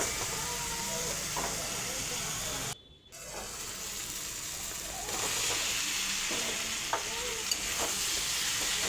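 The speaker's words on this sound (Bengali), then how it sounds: "মশলাটা যখন ভাজা ভাজা হয়ে যাবে" Ground spices with salt being stir-fried in a pan, a continuous hissing sizzle with scraping stirring strokes and a brief dropout partway, fairly faint and close.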